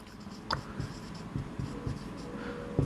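Chalk or marker strokes on a board in a chemistry classroom, close scratchy taps and short scrawls in an uneven rhythm over faint room tone, with no speech.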